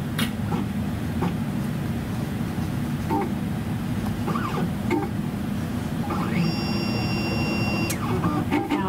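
A Vi-Cell XR cell counter analyzer runs with a steady mechanical hum, soft clicks and brief whirs, then a short electronic tone near the end as the cycle finishes.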